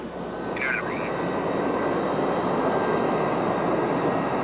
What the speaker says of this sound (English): United 27, cleared for takeoff